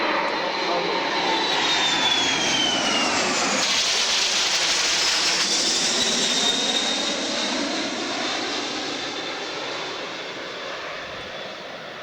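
C-17 military transport aircraft roars loudly past at an airshow, its jet engines a sustained whooshing rumble that slowly fades as it moves away, with an announcer speaking under the noise.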